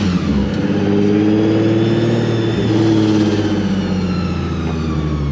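A Nissan 350Z fitted with a Procharger supercharger drives along, its engine droning steadily and loudly up close, with shifting pitch as it pulls and revs.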